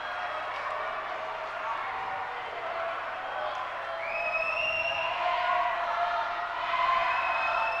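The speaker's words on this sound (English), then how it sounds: "You can hear the crowd. They are excited here in this close ball game" A basketball crowd during free throws in a close 1996 Janesville Parker at Janesville Craig high school game murmurs and buzzes excitedly, with some cheering. Distant crowd noise swells slightly near the end, with a whistle-like tone and some talk.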